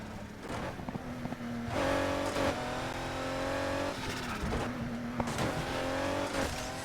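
A Ford GT's engine and turbo in the NFS Heat racing game: a loud, continuous engine drone rises and falls through gear changes, with faint squeals and whooshes over it and no talking.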